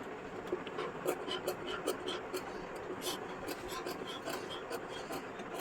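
Scissors make a series of small cuts in blouse fabric, giving quick, light snips close by in an irregular run over a soft rustling background.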